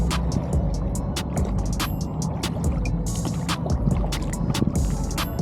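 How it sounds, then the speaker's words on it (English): Sit-on-top kayak gliding across water, a close rushing wash of water along the hull with steady wind noise and irregular soft splashes and drips from the paddle, with no talk. "This kayak just glides."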